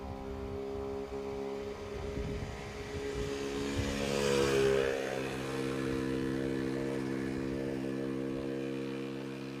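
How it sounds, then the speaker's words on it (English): A motorbike approaches and races past at speed near an RAF airfield, its engine note swelling to a peak midway and then fading, under a steady drone of background engine noise. "Someone's coming fast on a motorbike."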